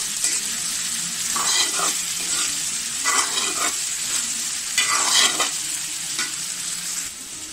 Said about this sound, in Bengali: আর এই পাশে বেগুন ভাজি হচ্ছে চুলা দিয়েছি, এটাও সরিষার তেলে ভাজি করছি